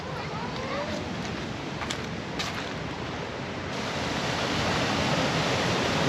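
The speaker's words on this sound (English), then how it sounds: "the water's rolling from up here down this waterfall into this pool, and then it's cascading down" Water cascades down a waterfall into a pool at Flora River (Giwinin) park, a dense, steady roar heard up close that grows slightly louder toward the end.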